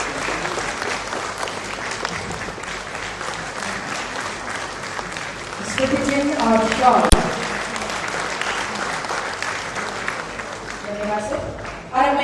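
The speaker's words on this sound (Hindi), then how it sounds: "तालियां भी हो आपकी तरफ से।" Audience applause at a government ceremony as a memento and shawl are presented to the chief minister, a steady clapping crowd swelling midway, with someone speaking over it on a public address system.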